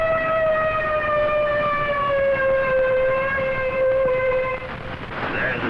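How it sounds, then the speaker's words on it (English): A World War II ship's siren signal sounds off the Normandy shore, one long sustained wailing tone that slowly sags in pitch before cutting off, loud and steady over a noisy background. "There's the siren signal."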